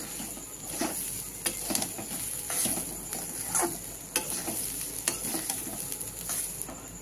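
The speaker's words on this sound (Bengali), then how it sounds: "এখন আমি একটু ঘি দিয়ে দিচ্ছি, গন্ধটা সুন্দর আসবে" Ghee goes into a hot pan for moong dal khichuri and sizzles steadily, with stirring scrapes and small crackles over the frying, close and moderately quiet, with no talking.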